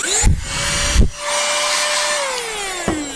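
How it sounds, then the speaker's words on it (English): A small handheld electric blower with a vacuum attachment, bought cheaply at a hardware store for cleaning car connectors, whines steadily at close range. The pitch sags, and short bursts break in as it starts and stops, with no talk over it. "If you take this end off, you can put a vacuum on this side, and then there's a little blower over here."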